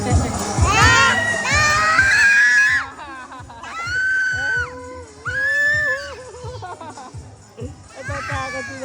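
Children at a dinosaur exhibit on Dinosaur Island in Clark, Pampanga, shriek and scream in loud, piercing bursts, some long and wavering, with crowd noise and talk between the cries.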